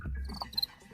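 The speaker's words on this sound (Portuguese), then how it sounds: "Ele gorjeia ou faz esse som estridente esfregando as elitras, as asas mais grossas, uma contra a outra." A male house cricket chirps by rubbing its wings together, making a few short, faint, shrill pulses close by, alone and without voices.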